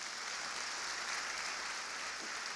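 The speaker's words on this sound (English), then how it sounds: "Another round of applause." A large crowd at a National Urban League conference gives a continuous, even round of applause, faint and distant, a smooth wash of clapping with no distinct individual claps.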